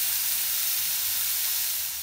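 Beef steak hitting a drizzle of oil in a well-heated frying pan, giving a strong, steady bright sizzle throughout, close and loud with no speech.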